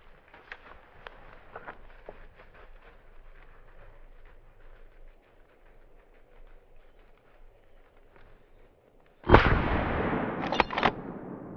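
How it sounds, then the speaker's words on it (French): A hunting rifle fires at wild boar during a driven hunt: after quiet woodland ambience, a loud, sudden blast rings out and decays, followed shortly by a second sharp report. "j'ai donc dû attendre la bonne opportunité pour lâcher une balle"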